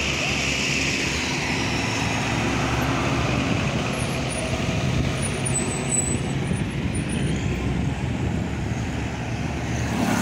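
A Nissan diesel truck, a heavily loaded single-axle engkel, rumbles steadily up close with a deep continuous engine drone and road noise, with no clear breaks across the whole stretch.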